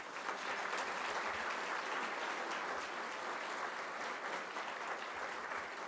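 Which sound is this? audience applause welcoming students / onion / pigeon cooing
audience applause welcoming students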